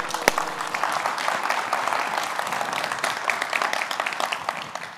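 An audience at a talk breaks into applause for the speaker, a loud, dense and steady clapping that fills the whole moment without pause.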